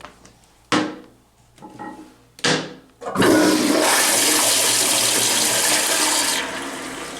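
A Kohler pressure-assisted toilet in a hotel bathroom flushes with a couple of sharp clicks and knocks, then a loud, forceful rush of water that holds steady for several seconds before easing off.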